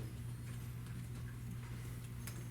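A horse-hoof clip-clop sound effect plays during a third-grade class play of The Princess and the Pea. The clopping is faint and evenly paced over a steady low room hum.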